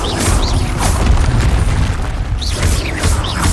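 Confringo blasting spell in Hogwarts Legacy going off as a loud, booming explosion, a deep sustained rumble with crackling bursts and a second blast swelling near the end, no talk.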